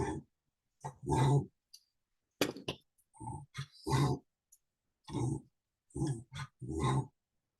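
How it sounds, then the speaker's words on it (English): Dog doing a backward sneeze, a series of close snorting, grunting bursts in irregular clusters separated by short silences. "Nothing worse is a dog that has a backward sneeze."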